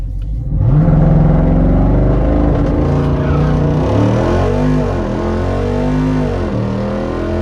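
A Jeep Wrangler Rubicon 392 launching hard at a drag race, its V8 roaring up through rapid gear changes, loud and close with no talk over it.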